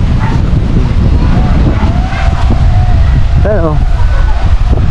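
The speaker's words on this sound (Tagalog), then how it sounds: "Malakas ang hangin dyan mga kapings" Strong habagat monsoon wind buffeting outdoors near the sea, a loud continuous roar and rumble with gusts, while a person speaks briefly and a dog yelps in the background.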